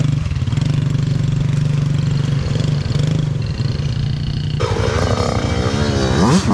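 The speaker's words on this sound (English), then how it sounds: "This could be Nicholas's last run on his ttr50." A Yamaha TT-R50 dirt bike engine drones steadily while being ridden, a close, buzzy low hum that shifts pitch and rises near the end.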